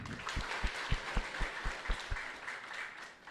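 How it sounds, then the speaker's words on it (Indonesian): A church congregation claps in a short burst of sharp, evenly spaced hand claps, fairly quiet and fading out toward the end. "Salinari tepuk tangan hita."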